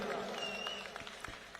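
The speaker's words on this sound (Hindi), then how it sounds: "जोर से ताली बजाइए जरा।" Applause from a crowd at an outdoor political rally in Narela, Delhi, a dense patter of clapping that holds strong and then thins out over a moment or two.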